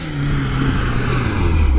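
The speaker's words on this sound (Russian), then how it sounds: "Вот здесь двигатель совсем по-другому крутит." A Lada Niva 4x4 engine revs steadily up close while driving on sand, a loud droning hum with rising pitch over a short burst.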